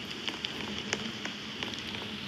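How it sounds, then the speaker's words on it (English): Steady rain in Roblox patters over a surface, with scattered louder droplets ticking through a constant hiss at moderate volume. "Great. Now it's raining."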